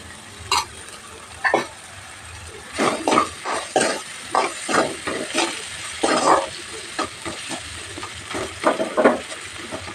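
Coriander-cumin powder and spices fry and sizzle in a pan while being stirred for a Bangala dumpa menticura fry, with soft scraping strokes and crackling bursts coming close and steady, and no voices.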